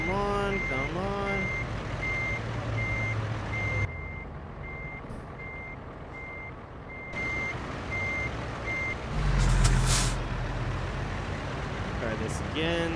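A truck reversing in American Truck Simulator sounds a steady run of evenly spaced beeps over a constant engine rumble, with a brief hiss partway through and someone talking at the start and end.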